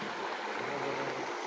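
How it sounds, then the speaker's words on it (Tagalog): Strong water current rushes through a bathing spot at Bluerock Lagoon as a steady, dense hiss. It is even in loudness throughout, with no voices. "Lakas ng agos ng tubig"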